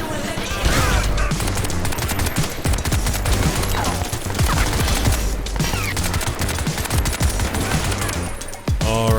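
Automatic gunfire in the video game Crysis 3, with dense, rapid bursts of shots and impacts running almost continuously at high volume, close and relentless, with no clear talking.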